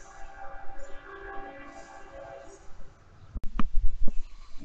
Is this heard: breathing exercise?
no